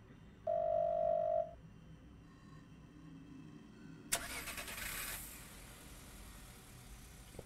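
A car in a video game: a steady tone sounds briefly near the start, then an engine starts abruptly with a sharp onset and a hissing, rumbling burst that settles into a quieter idle.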